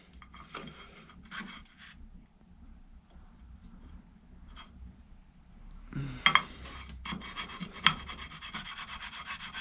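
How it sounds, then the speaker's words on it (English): A router plane scrapes and shaves across a wooden joint in short, quiet, irregular strokes, with a few sharper metallic scrapes partway through. "This is called a router plane."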